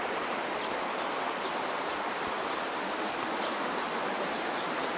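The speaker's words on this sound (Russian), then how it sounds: "Река Альгар, да, и в виде порогов получаются такие водопады." Steady broadband roar of the Algar river's waterfalls and rapids in the mountains of Spain, loud and continuous throughout, close by, with no voices.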